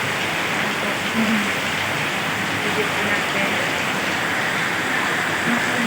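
Heavy afternoon rain pours down in a dense, steady roar during an e-bike trip, with a voice speaking briefly and softly underneath.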